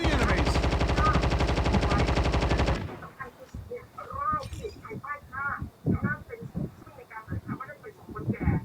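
Dense, rapid automatic gunfire rattles loudly for about three seconds, then stops abruptly as people start talking over faint background sounds.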